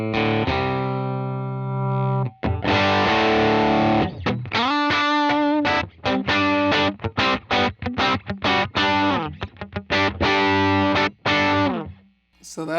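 Electric guitar played through a UAFX Dream 65 amp pedal on the lead channel with boost, distorted and slightly chorused, a sustained chord ringing out then a run of choppy, rhythmic picked notes and stabs, loud and close.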